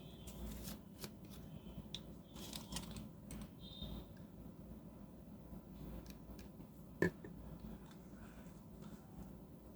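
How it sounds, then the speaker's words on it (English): A fine-nibbed Sheaffer Award fountain pen filled with violet dye-based ink writes on paper, producing faint, intermittent scratchy strokes with brief pauses between them and one sharper tap. "And now I'm going to give the writing sample of this pen."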